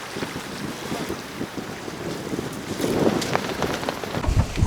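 Strong, gusting wind buffets a fishing boat on the water near Astrakhan, a rough roar of wind noise across the microphone that swells louder toward the end, with no speech.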